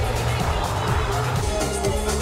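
A Renault 5 racing at an autoslalom event, its engine roaring steadily and loudly nearby with no letup, and a commentator's voice running over it.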